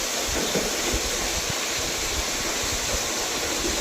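Water gushing out through a broken dam sluice wall, a dense continuous roar and rush that stays steady and loud across the whole stretch, no voices.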